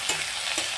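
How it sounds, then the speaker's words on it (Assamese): Gorai fish, salted and dusted with cumin powder, frying in hot oil in a home kitchen pan, giving a steady crackling sizzle with a couple of brief louder spits, heard alone without talk. "গৰৈ মাছটো তেলত ভাজি ল'ম।"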